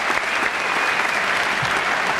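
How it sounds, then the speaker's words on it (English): Brief, dense clapping from a graduation audience for a principal and the class of 2008, steady and close throughout the short burst. "Can you please give them a round of applause?"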